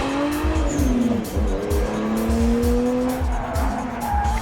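A Nissan Skyline sports car with four-wheel steering and all-wheel drive slides through a loud, sustained tire squeal over a roaring engine, with the pitch wavering as the car drifts.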